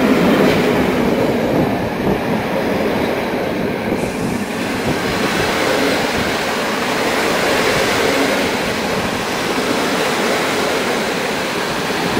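A train pulling away from Warszawa Wschodnia station, a loud continuous rumble of rolling wagons with wheel and rail noise that stays steady and close throughout, with no talking.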